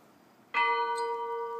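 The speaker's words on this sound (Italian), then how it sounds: "quest'ora di notte, queste suonano le campane" A church bell rings out at night on the Greek island of Limnos, one sustained resonant strike with a long humming decay and a second strike starting at the end, over faint background hiss.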